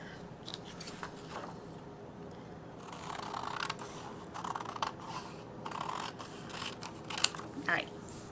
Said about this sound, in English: Going to fold that down and then cut off this side piece.